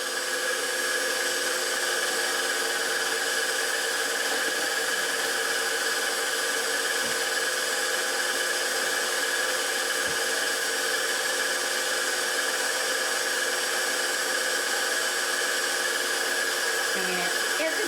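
A KitchenAid stand mixer beats Tom & Jerry batter with powdered sugar, giving a steady, loud whirring motor drone that runs throughout without pause.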